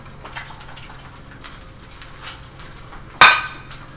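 A pan clatters once as an over-easy egg is flipped and the pan is brought back over the heat, a single sharp metallic clink after a few seconds of faint kitchen rustling.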